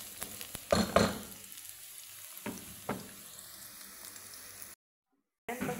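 Garlic sautés in a pan with a soft, low sizzle, broken by a few sharp stirring clatters before a brief drop to silence.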